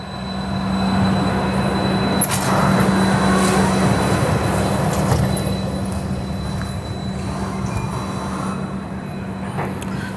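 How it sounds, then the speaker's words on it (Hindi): An Indian Railways Garib Rath Express pulls out of Bandel Junction, with a continuous low rumble, a steady hum and rattling wagons. Metallic clanks and squeals rise midway before the noise settles into a smoother roll. "12 बजे हमारी ट्रेन डिपार्ट कर रही है बैंडेल जंक्शन से"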